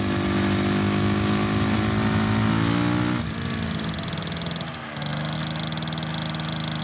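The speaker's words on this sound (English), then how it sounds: "the moped." A moped engine buzzes steadily at close range, a harsh, high, raspy drone whose pitch shifts with throttle changes and briefly drops before picking up again; no one speaks.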